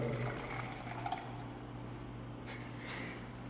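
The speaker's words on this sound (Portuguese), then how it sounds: "Vamos colocar mais água aqui agora, que já acabou do reservatório." Quiet, steady stream of water pouring into the reservoir tank of an Arduino-automated greenhouse, a continuous trickling wash with a faint low hum beneath.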